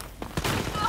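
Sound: gunfire in the video game Wolfenstein: Youngblood

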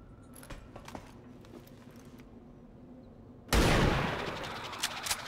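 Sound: gunfire shooting an alien in XCOM 2 video game

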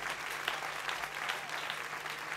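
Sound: audience applause for volunteers

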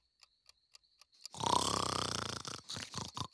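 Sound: snoring

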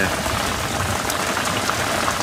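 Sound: heavy rain

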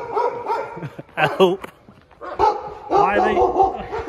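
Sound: stray dogs barking in Basra, Iraq

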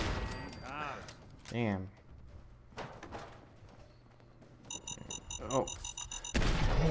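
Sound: turret gunfire in Fallout 4 video game

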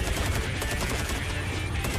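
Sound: gunfire in a video game

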